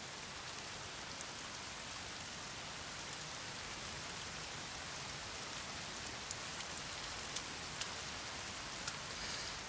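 Steady rain patters across the forest in The Forest video game, a constant, even hiss of drops with occasional brighter splashes close by, heard alone without any voices.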